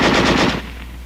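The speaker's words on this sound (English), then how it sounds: "Weapons giving automatic fire will fire continuously as long as pressure is applied to the trigger" Automatic small-arms weapon firing a rapid continuous burst of about half a second, loud and close, then its echo decaying in the open.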